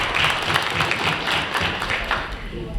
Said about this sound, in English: Give yourself a big hand